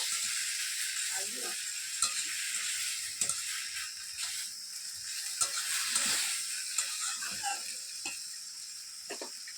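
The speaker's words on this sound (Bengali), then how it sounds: "এরপরে গুলে রাখা সর্ষে, ভালোভাবে মিশিয়ে নেব।" Malabar spinach curry with mustard paste being stirred in a hot pan: a steady sizzle and hiss with occasional sharp scrapes and taps of the utensil against the pan, close and moderately quiet.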